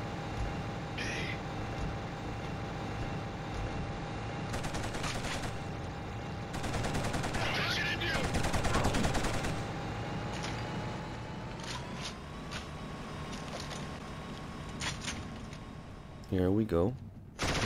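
Mounted machine gun firing in the video game Killzone, with dense bursts of rapid gunfire going on under excited talk and a hum of background game noise.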